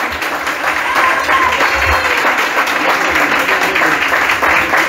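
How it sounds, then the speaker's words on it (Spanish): A carnival crowd applauds a murga performer with loud, steady clapping that fills the room at an even level for the full few seconds. "Fuerte el aplauso para este gran carnavalero y mejor murguista."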